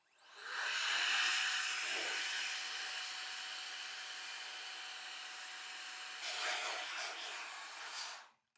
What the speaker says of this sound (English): I will spend extra time putting air in there, trying to get these bristles in there and really blowing that out.